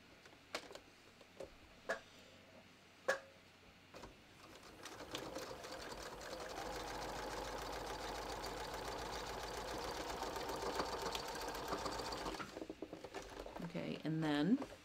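Sewing machine running a long continuous stretch along a bathrobe seam, a steady, fairly quiet hum after a few light taps and knocks, with a rising sound at the very end.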